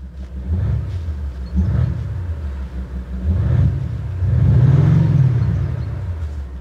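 Maserati Ghibli engine revving while creeping through a car park, its artificially enhanced exhaust note rising and falling in deep swelling rumbles, loudest in a long surge near the end, heard close with no talking.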